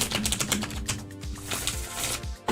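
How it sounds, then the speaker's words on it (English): A deck of tarot cards is shuffled by hand at close range, giving quick papery riffles and soft clicking flutters in repeated bursts with short pauses between them. "So I'm just going to sit here and shuffle."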